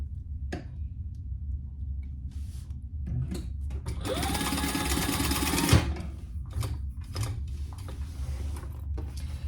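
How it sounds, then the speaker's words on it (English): Sewing machine basting pieces of a tote bag, a close, steady rapid mechanical stitching run of about two seconds amid quieter clicks and handling noises before and after. "we're just basting those on so they don't wiggle around on us"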